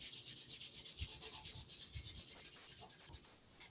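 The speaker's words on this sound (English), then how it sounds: "go ahead and rub your hands together" Palms rubbing together in a chair yoga session, a steady, close, continuous dry friction with a rhythmic back-and-forth pulse that fades slightly at the end, with no talking.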